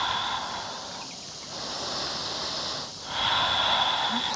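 Slow, deep breaths drawn in and let out during a held yoga bridge pose, soft, close and steady, with a brief pause between inhale and exhale and no talking.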